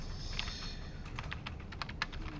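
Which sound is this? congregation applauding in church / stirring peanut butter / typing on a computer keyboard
typing on a computer keyboard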